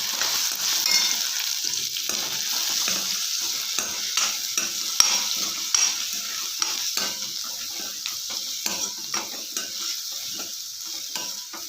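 Potato curry in the North Karnataka style, made with tomato and chillies, stirred as it fries in a pan, giving a steady sizzle with repeated scraping strokes of a spoon close by, with no talking.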